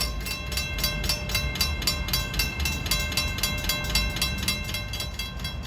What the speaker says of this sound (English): And 1960 is pulling out of the station now.